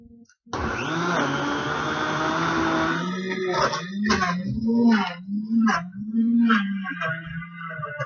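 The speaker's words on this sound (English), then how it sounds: "so you just have to listen to a blender for 30 seconds" A blender whirs loudly and steadily while blending a tropical green smoothie with kale, starting abruptly and then continuing with an unsteady, pulsing drone as a voice is heard over it.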